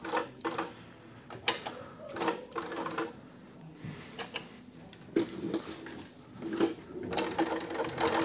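A direct-drive alternating-foot walking sewing machine with large hook and needle stop, a Sun Special 220V model, runs in short stitching bursts with rapid mechanical ticking, pausing between runs, close and moderately quiet.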